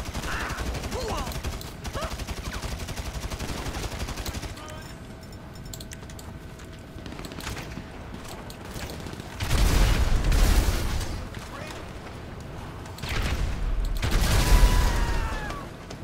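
Video game gunfire during a chaotic public online session: rapid bursts and dense volleys of shots, louder clusters near the middle and end with heavy booming thumps, a lull of quieter crackle between, and intermittent talk mixed in.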